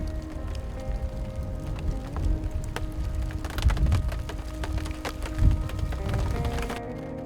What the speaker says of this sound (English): Let this thunder and rain pass.